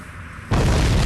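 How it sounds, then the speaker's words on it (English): A sudden, loud booming explosion from a crash landing in the War of the Monsters video game, erupting halfway through and roaring on steadily to the end, with no talking. "Crash landing to Earth."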